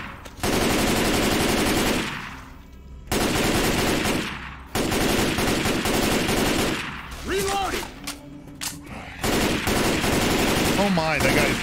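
Automatic gunfire in Left 4 Dead 2, loud rapid bursts of machine-gun fire separated by short pauses, with some faint in-game voices between the volleys.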